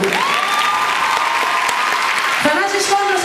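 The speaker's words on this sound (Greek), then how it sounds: "Ένα πολύ θερμό χειροκρότημα στην ορχήστρα μου." Warm applause from a concert audience for the orchestra and its conductor at a 2007 Nokia Trends Lab show in Athens, steady clapping crowd noise filling the whole stretch with a sustained tonal hum running through it.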